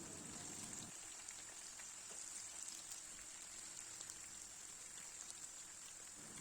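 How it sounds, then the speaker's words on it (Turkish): Steady, faint sizzling and crackling of peppers frying in hot oil, a continuous hiss with tiny pops and no talking. "Yine aynı yağın içerisinde biberleri de kızartıyorum."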